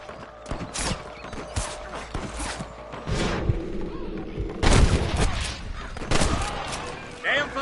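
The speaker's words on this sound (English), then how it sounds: "Damn fine shooting, boys." Bursts of gunfire in a video game, several sharp shots and booms scattered irregularly through a busy mix of game effects, with voices talking over it.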